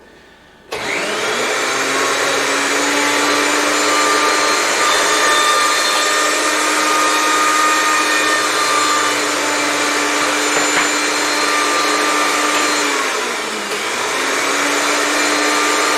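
A kitchen blender purees an arugula and watercress vinaigrette in one loud, steady motor whir that runs unbroken for about thirteen seconds, dips briefly as it slows, then picks back up.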